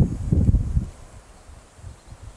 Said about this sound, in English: Now the wind's starting to kick up.